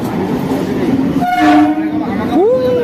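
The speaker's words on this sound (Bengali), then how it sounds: "শিয়ালদা ট্রেন বেরিয়ে গেল বজবজ থেকে" A local train departing Budge Budge for Sealdah rumbles steadily nearby, then its horn blares in two long tones over the rolling noise of the carriages.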